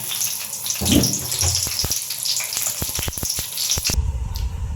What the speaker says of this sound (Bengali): তেলটি গরম হওয়ার সঙ্গে সঙ্গে দিয়ে দেব তেজপাতা, শুকনো মরিচ